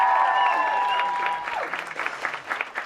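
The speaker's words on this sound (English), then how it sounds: "Let's give him a big round of applause." Applause from a cabaret audience swells after a sustained musical chord fades, the clapping dense and lively at first, then thinning into scattered claps near the end.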